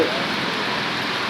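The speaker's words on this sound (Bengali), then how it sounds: "বৃষ্টি হচ্ছে। এই বৃষ্টি কখন শেষ হবে বুঝতে পারছি না।" Steady, dense hiss of rainfall with no distinct drops standing out, constant throughout and moderately loud.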